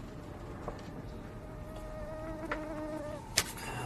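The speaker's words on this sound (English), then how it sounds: "Mosquitoes here." Mosquitoes buzzing close by, thin whining tones that drift in pitch and overlap, with a few sharper taps and rises standing out against the steady hum.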